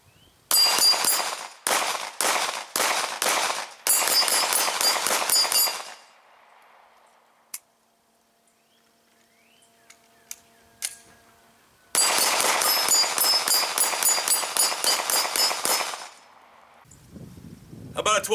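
Rapid bursts of gunfire striking a 10-inch AR500 steel gong on rubber hangers, each shot a sharp, ringing metallic clang, fired in quick strings of loud hits with a quiet pause between volleys and a brief voice at the end.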